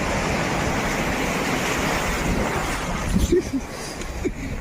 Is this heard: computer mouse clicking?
no